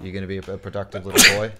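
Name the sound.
sneeze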